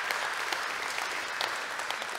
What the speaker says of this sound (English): Somebody give Jesus a hand clap of praise today.